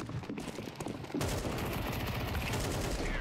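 Rapid automatic bursts from an MP9 submachine gun in Counter-Strike on the Overpass map, a short quieter spell followed by sustained loud, close firing that runs to the end.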